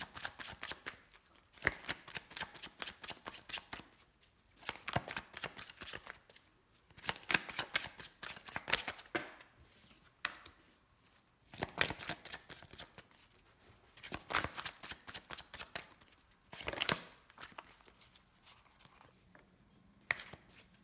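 Tarot cards shuffled by hand in repeated bursts of quick riffling and slapping, each flurry lasting a second or two with short pauses between, close and quiet, with no talking.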